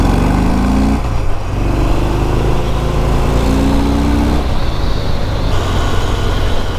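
A Harley-Davidson motorcycle engine runs loud and close throughout, a steady throbbing drone with rising and falling pitch as the rider shifts and accelerates, no voices over it.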